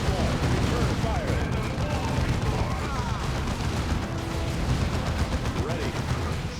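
Gunfire from a Blood Ravens battle in a Warhammer video game, a steady dense roar of shots and explosions running the whole time, with voices talking over it.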